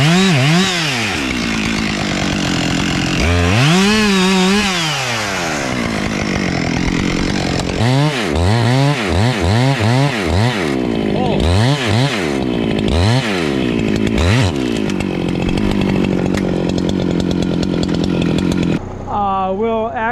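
Chainsaw cutting a hinge into a large maple tree during a removal, the engine revving and bogging in repeated loud surges over about twenty seconds, with brief drops between cuts.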